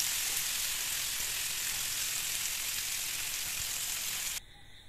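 Paneer tikka frying in hot oil, a steady bright sizzle that holds evenly for several seconds, then drops off abruptly near the end.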